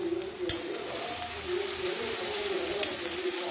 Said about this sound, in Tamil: இந்த கொஞ்சம் வதங்கட்டும்.